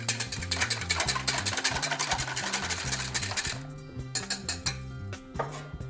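Raw eggs are stirred in a bowl with rapid, rhythmic clinking and scraping, close up, slowing into sparser taps toward the end.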